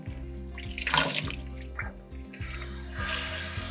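Warm tap water runs to rinse soapy yarn skeins, a gushing, splashing stream with gurgles and shifts in flow as the wool is moved under the faucet, over a low steady hum.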